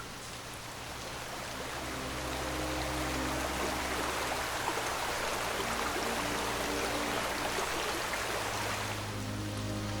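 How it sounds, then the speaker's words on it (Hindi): Fast-flowing river water in a cartoon rushes in a loud, continuous roar that swells after the first couple of seconds, with low musical tones humming beneath it. "उसमें तेजी से बहता हुआ पानी बहुत डरावना लगता है।"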